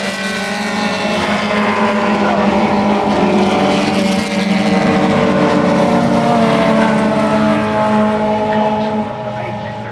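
Race cars from a Boss Racing 'Sevenesque' field of about 13 cars roar past at close range, a loud continuous engine drone with a faint commentary voice beneath it.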